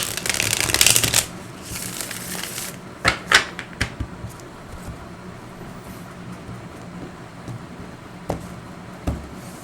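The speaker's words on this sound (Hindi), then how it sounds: "एक और शफल कर लेते हैं।" A deck of tarot cards being shuffled close by, a loud riffling burst at the start followed by several quicker flicks and taps, then quieter handling with occasional clicks.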